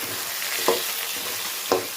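Onion, garlic and tomato sauté in a pan for a Tamil garlic kulambu, a steady close sizzle with two distinct scraping stirs about a second apart.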